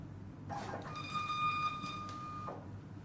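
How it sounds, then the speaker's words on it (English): SATO CL4NX label printer printing a standard label, a smooth two-second motorized feed with a steady whine over a low room hum, starting and stopping cleanly. "The software prompts us to print a standard label."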